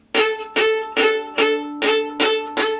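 Bowed string played with short collé strokes at the tip of the bow: six crisp, evenly spaced pinched attacks on the same pitch, each ringing briefly before the next, close and clear with no talking.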